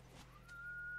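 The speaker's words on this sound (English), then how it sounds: "I'm whistling." Ellie, the teenage companion in the video game The Last of Us, whistles a single rising tone that holds steady and grows slightly louder, heard alone over a low game hum.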